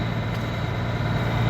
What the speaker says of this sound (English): Dad happened to come and get me with the tractor,